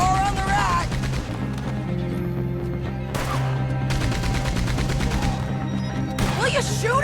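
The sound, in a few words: gunfire during the army train robbery in Red Dead Redemption 2 video game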